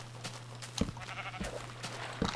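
A flock of sheep in Minecraft bleats in the distance, thin wavering baas spread across a quiet stretch with a few soft blocky footstep thumps and a low steady hum, no one speaking.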